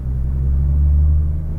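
A Nissan GT-R on a race track gives a low, steady engine rumble under light throttle, close and loud, holding a constant drone with no voices.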